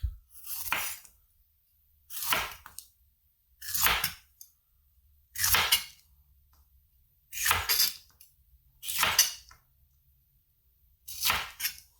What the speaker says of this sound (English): And then I'm just gonna cut it into slices that are about a 1/4 inch thick.